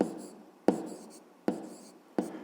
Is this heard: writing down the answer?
yes